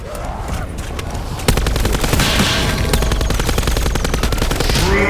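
Rapid automatic gunfire from a Call of Duty Zombies game, loud and close, in dense continuous bursts that grow heavier after a short opening stretch.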